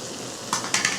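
Garlic, onions and other vegetables frying together in a pan give a steady close sizzle, with two quick stirring scrapes near the end.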